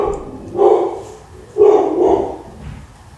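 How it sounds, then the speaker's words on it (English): A dog barks nearby, giving about three loud barks in quick succession over a low room background. "My dog is barking."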